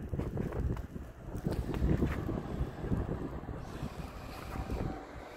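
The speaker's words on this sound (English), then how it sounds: "Early morning, Sunday, and it's very windy." Strong wind gusts roar and buffet the microphone continuously outside Værnes Airport near Trondheim, Norway, a dense, rushing noise with no voices.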